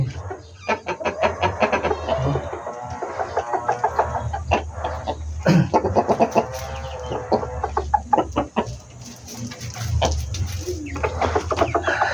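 A serama chicken clucks repeatedly up close, loud choppy bursts of clucking and squawks with short pauses between them.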